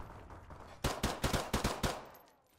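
Six quick bursts of gunfire from Modern Warfare Remastered crack out close and loud in the middle, each a sharp report with a short tail, after a stretch of quiet game ambience.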